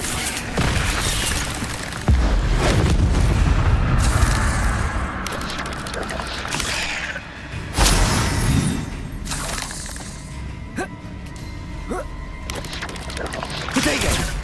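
Fiery spell blasts and crackling impacts from combat in the video game Hogwarts Legacy, with loud bursts near 2 s and 8 s over a continuous dense clatter of magical effects throughout.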